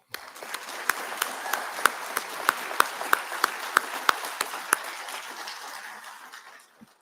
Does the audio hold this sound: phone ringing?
no